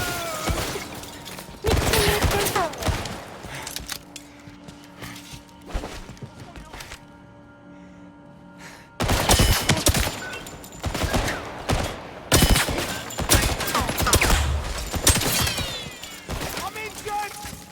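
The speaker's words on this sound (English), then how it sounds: "There is still some people shooting." Gunfire in the shooter game First Light, with dense bursts of rapid automatic shots and crashing impacts. A quieter lull sits in the middle, then heavy volleys return, mixed with a person talking.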